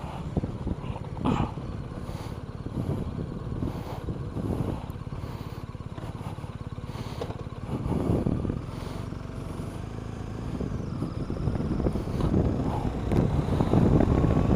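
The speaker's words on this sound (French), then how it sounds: "Ah ouais, il y a quand même un vent." Cold outdoor wind buffets a microphone in uneven gusts while someone rides along, a steady low rumbling roar that swells and fades with the crosswind, with no speech.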